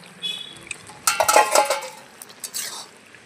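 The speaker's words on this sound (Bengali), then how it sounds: "এবার ঢাকনাটা খুলে দেবো।" A lid lifted off a cooking pot of simmering pumpkin-shoot vegetables, giving a cluster of metallic clinks and scraping clatter in the middle, followed by softer rattles over a quiet background, with no speech.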